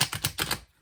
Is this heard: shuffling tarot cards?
yes